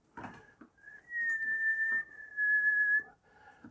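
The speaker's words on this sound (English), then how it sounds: "A little woodwind on the top." A thin, sustained high woodwind line floats above a soft orchestral accompaniment in an animated TV series score, holding a long gliding note, with faint clicks around it.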